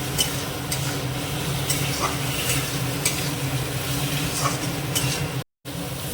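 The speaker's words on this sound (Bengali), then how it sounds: "ওইগুলো দিয়ে আমি এর মধ্যে অল্প জল দিয়ে আবার মশলাটা একটু ডিমের সাথে কষিয়ে নেব" Fried eggs sautéed with masala and a splash of water in a pan, a steady loud sizzle with light stirring scrapes throughout, briefly cut to silence near the end.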